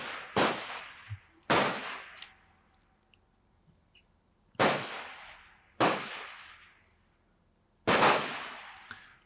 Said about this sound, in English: both of these guys are shooting 308 Winchester off a bipod and a rear bag